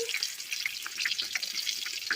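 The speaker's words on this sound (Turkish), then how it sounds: "Kızgın yağda kızartmaya başlıyorum." Chicken for a burger sizzles and crackles steadily in hot oil, a close, bright spitting hiss with scattered pops.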